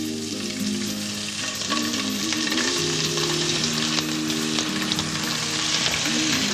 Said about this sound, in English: When your fish is sizzling